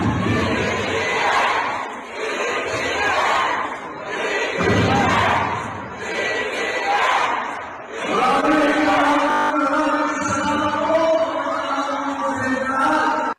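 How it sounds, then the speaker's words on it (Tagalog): A large outdoor crowd at a political gathering shouts in rhythmic, chant-like bursts for the Unity candidate, swelling and dipping every couple of seconds, then breaking into looser, sustained cheering and overlapping voices. "maririnig din ang sigaw ng crowd para sa pambato ng Unity"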